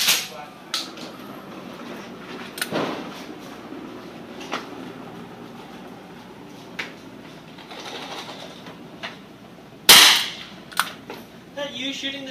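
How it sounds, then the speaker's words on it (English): Gunshots from a 10mm pistol fired outdoors alongside Ruger single-action revolvers, a few scattered sharp reports with one loud, close blast near the end among smaller pops. "Is that you shooting the 10 mil?"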